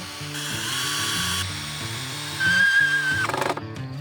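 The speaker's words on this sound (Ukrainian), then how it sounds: "вкручуємо шурупи в кожнісінький отвір" A power drill drives screws through a metal reinforcing plate into the wooden frame of a large homemade slingshot, giving a close, whining motor with rising pitch and short bursts, ending in a few clicks.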